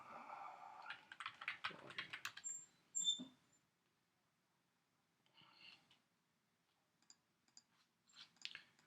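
Light, quick keystrokes tap on a computer keyboard in short bursts with pauses between, close and quiet, while someone edits a WordPress page.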